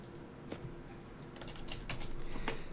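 Light typing on a computer keyboard while editing a document template, a quiet irregular patter of key clicks that grows slightly busier toward the end, with no talk.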